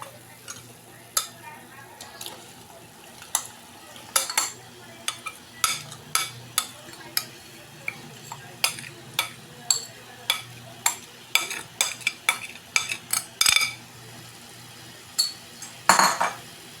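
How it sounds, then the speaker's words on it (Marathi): Marinated prawns fry with ground masala in a pan, a spoon scraping and clinking against the metal in sharp, irregular strokes over a soft, low sizzle. "आता ही कोळंबी जी आहे ती आधी आपण थोड्या वेळ ह्या वाटणाबरोबरच फ्राय करून घेऊया"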